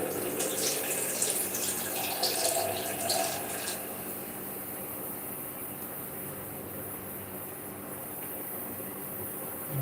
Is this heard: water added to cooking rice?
yes